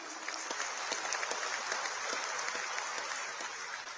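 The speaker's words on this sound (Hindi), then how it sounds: "देवी और सज्जनों, एक बार फिर जोरदार तालियां," A crowd at an Indian Air Force ceremony inducting the first LCA twin-seater trainer gives sustained, even applause, many hands clapping at a moderate distance with a steady texture throughout and no voices over it.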